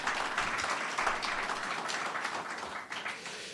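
An audience at a governor's bill-signing event in a room applauds Governor Richard Cody: a soft, steady wash of many hands clapping, heard at a distance and fairly faint, with no voices over it.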